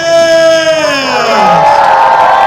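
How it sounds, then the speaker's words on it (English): At a medieval festival joust, one voice lets out a long, loud shout that falls in pitch. A broad, noisy crowd cheer then swells in behind it and keeps going. "This is the final pass! Why aren't you cheering louder?"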